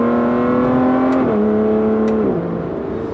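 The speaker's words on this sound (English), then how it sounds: "So you are up to speed very, very quickly." An Aston Martin V12 Vanquish S accelerates hard on a French autoroute, its V12 engine note climbing steadily, then dropping pitch at two gear changes before rising again, loud and close with no talk.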